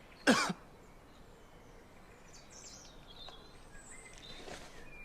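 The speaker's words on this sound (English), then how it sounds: "Cough." A single sharp cough bursts out near the start, followed by quiet outdoor ambience with faint bird chirps and insects in the background.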